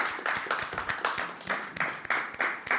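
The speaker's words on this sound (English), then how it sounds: "Let's give him a round of applause, please" An audience claps in a quick, uneven burst of distinct, close hand claps, with sharp individual slaps standing out over a light spread of clapping.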